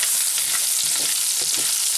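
Pangasius fillets fry in butter in a coated pan with a loud, close, continuous sizzle and a few soft scraping touches underneath. No voices.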